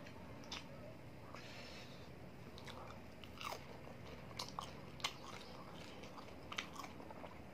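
Someone eats food dipped in sambal close to the mic, giving quiet, irregular crunchy bites and soft chewing with no talking.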